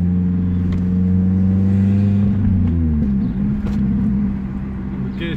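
A Toyota Celica with its exhaust butterfly valve deleted rumbles and burbles at low speed, a steady close engine drone that eases off near the end with a few faint pops.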